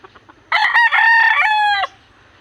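A backyard rooster crows once, loud and close, a long drawn-out call of about a second and a half after a brief quiet lead-in.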